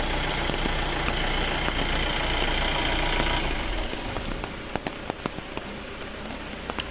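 Steady rain pours down with a low engine rumble underneath; the idling fades partway through, leaving the patter of rain and occasional drips.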